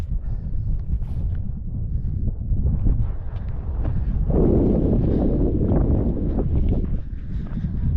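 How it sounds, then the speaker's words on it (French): Wind blows on the ascent of Mont Joly above Les Contamines-Montjoie, heard as a continuous, loud, buffeting rumble that swells in the middle and then eases slightly. "un petit vent normal"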